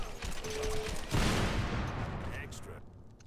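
Shotgun blasts in the video game Crackdown: a loud, booming shot with a long, rumbling tail, set among other game noise, close and prominent.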